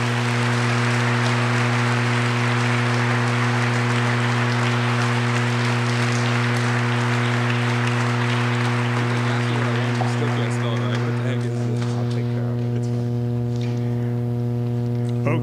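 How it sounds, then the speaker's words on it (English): Applause rises at a middle school awards night, a broad wash of clapping over a steady droning hum, thinning and dying away after about ten seconds while the hum carries on. "Now we can applaud for these individuals."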